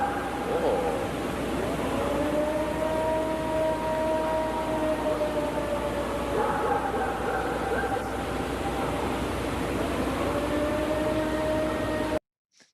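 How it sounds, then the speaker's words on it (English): A slightly altered air raid siren recording presented as Bigfoot sounds from Ohio, with steady wailing tones that rise and fall over dense background noise throughout, cutting off abruptly at the end. "It's just a fucking air raid siren that's been slightly altered"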